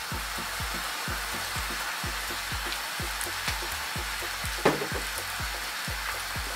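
Sticky pork ribs coated in clear honey and chilli sizzle over lively heat in a pan, with a continuous loud hiss under a regular, rhythmic series of scraping stirs.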